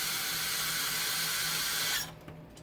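Tap water runs steadily into a cooking pot for ground turkey in a home kitchen, a continuous close splashing hiss that cuts off near the end.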